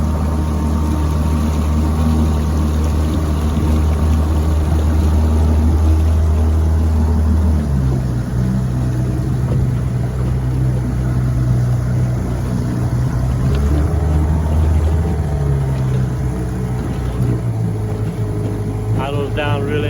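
A restored 1958 Johnson 7.5 HP outboard motor runs on a lake, a loud, close, steady drone that drops in pitch as it is throttled down to idle, with someone talking over it.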